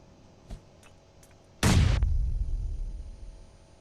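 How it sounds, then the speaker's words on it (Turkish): Bomb explosion in the PUBG Mobile video game: after a faint tap and a few quiet ticks, a sudden loud blast hits, followed by a rumbling tail that slowly dies away, with no talking. "Kendimi öldürmeyecek şekilde bir bomba göndereceğim."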